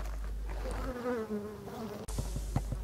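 Black honey bees hum around their hives, with a steady low drone and a wavering buzz of one bee passing close, followed by scattered ticking and buzzing.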